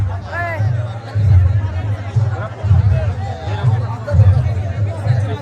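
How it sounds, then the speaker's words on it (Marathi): Dense crowd hubbub in a temple courtyard at Shri Sant Balumama temple on Ekadashi, steady murmur of many voices with a close voice talking over it. "लई गर्दी आहे"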